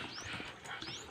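A dog playing and panting, with quick breathy pants and small whimpering sounds in a rapid, uneven rhythm that stays close and fairly quiet through the whole moment.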